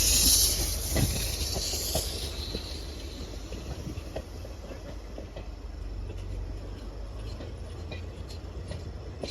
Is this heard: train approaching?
yes